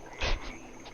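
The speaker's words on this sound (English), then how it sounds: "Lovely. Got a frog." A frog in the game DemonCrawl gives a single short croak, a quick bright burst followed by a couple of fainter echoing repeats, close and clear over a quiet background.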